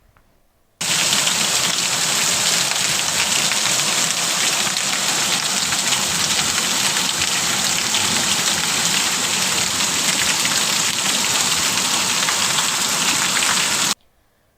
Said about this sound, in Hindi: ओलों के साथ बारिश बरसी है